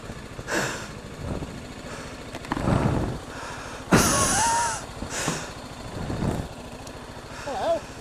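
A Ducati motorcycle pulls up with several bursts of engine revving and idling nearby, mixed with excited voices talking.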